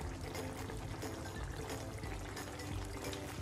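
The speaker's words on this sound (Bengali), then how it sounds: "এখন নামানোর আগে আমি দিয়ে দিব 1 টেবিল চামচের মতো কেওড়া ওয়াটার এবং 1 টেবিল চামচ ঘি।" Kewra water and ghee poured into chicken rezala in the pot, a soft, steady liquid trickle with faint background clatter, quiet and continuous.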